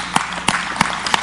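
A church congregation claps in four sharp, evenly spaced claps, close and distinct over a faint room background.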